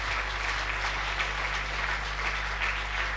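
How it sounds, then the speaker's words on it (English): An audience at a national conference claps for eight debating teams, a steady wash of many hands applauding together under a low electrical hum, with no pause throughout. "Let's give a big round of applause for all the 8 teams who have presented well,"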